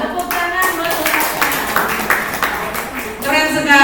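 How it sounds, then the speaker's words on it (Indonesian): Audience clapping at a school teachers' training session at SDN Sukapura 02, a dense patter of many hands under continuous talk, swelling louder at the end. "Tepuk tangan buat"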